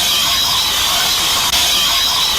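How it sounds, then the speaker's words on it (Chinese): A car engine with a faulty three-way valve gives off a loud, steady hissing, rushing noise, continuous and close with one brief break partway through, no voices. "3通4尾阀异响"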